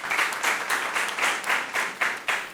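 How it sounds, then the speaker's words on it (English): Applause for a school quiz team at a basic school quiz competition, a steady patter of many hands clapping with a few sharper bursts, fairly close and without talk. "Give them a round of applause, please"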